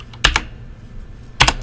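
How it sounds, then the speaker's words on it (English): A few quick keystrokes on a computer keyboard as a number is typed in: a short double tap, a pause, then another pair of clicks, close and clear with no talk. "I'm just gonna manually type it in"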